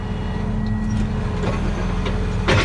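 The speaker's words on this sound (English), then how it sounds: "That beep is so annoying when you're hitching up trailers." A tractor's warning beep sounds while a trailer is being hitched: a steady, sustained tone holds over the loud, close rumble of the running engine, with no speech.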